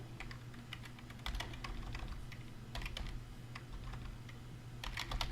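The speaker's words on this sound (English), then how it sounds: "that's what you're typing" Typing on a computer keyboard while scripting in Roblox Studio: several bursts of rapid, close key clicks with short pauses between them, over a steady low hum and no talk.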